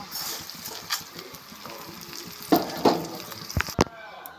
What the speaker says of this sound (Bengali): এরপর আমি চালটা ঢেলে দেব